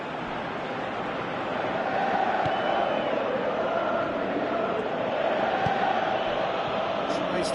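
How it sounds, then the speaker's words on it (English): Crowd noise at a video game football match on PS4, a continuous broad roar of stadium spectators that swells slightly and holds steady, with faint commentary voices underneath. "you can feel and hear how the crowd are reacting to all of this"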